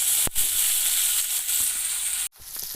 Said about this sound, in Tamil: வாழைக்காய் கொஞ்சம் ஒரு 5 நிமிஷத்துக்கு அந்த பச்சை வாசனை போகிற வரைக்கும் கொஞ்சம் வதக்கிக்கலாம்